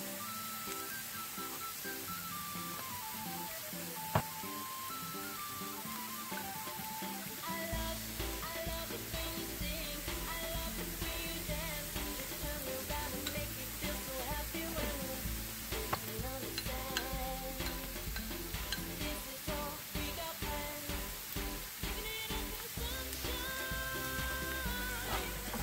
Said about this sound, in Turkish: Salça kokusu gidene kadar kavurmaya devam ediyoruz